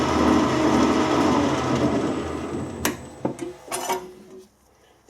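A steady mechanical whir of a lathe's meshing straight-cut gear train runs for a few seconds, then stops with a couple of metallic clunks and rattles.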